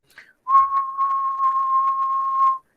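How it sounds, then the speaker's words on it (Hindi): A person whistles one steady, pure tone for about two seconds, close and clear, after a short faint chirp. "अभी मैं सीटी बजा रहा हूँ"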